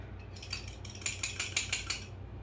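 Food goes into a skillet with a series of soft metallic clinks and scrapes of utensil against pan, close and quiet, several quick taps in a loose rhythm, no speech.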